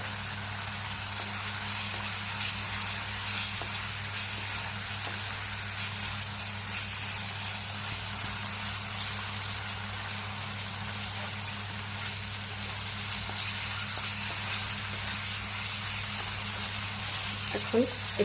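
Paneer pieces fry in a pan for paneer masala, giving a steady, even sizzle that stays at one level throughout, heard up close, with no one talking.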